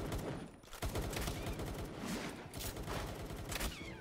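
Gunfire in Palworld rattles almost without pause, a dense, loud barrage of rapid shots layered over busy game sound.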